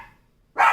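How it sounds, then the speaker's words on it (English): A single sharp dog bark bursts out close and loud after a moment of quiet, preceded by a faint trailing sound. "if you're barking at your reflection right now"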